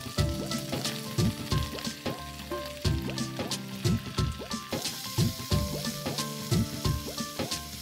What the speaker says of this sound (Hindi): हुण आप इस पावांगे स्लाइस किए हुए प्याज ते उन्हें चंगी तरह भुन लेना जी